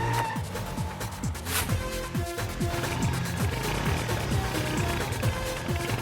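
In an Indian action-comedy film scene, a hero's motorbike engine roars in for a dramatic entry, its tyres skidding and squealing in a loud, dense mix of repeated sweeping swoops with no talking.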